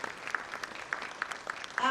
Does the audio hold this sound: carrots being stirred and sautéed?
no